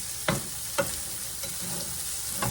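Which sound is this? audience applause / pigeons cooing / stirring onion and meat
stirring onion and meat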